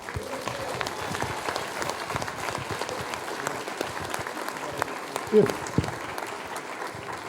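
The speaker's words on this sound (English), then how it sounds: "let's give them a round of applause." Audience applause for two podcast guests, Ryan Stewart and Tommy Davidson, at a library event, a steady dense clapping from a crowd lasting throughout with a brief louder burst near the end.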